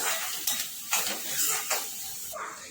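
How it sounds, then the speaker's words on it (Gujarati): Onion with a pinch of asafoetida fries in hot oil for rajma, with a steady sizzle broken by several scraping stirs of a spoon against the pan, close and clear with no talk. "હવે આપણે ડુંગળીને શેકાવા દઈશું"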